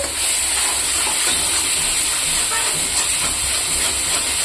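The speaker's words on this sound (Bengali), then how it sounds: "দেখুন বন্ধুরা, মশলাটা ভাজা হয়ে গেছে।" Masala spices with turmeric sizzle in a pan while frying for a fish dish, a loud, steady, close hiss that holds without pause.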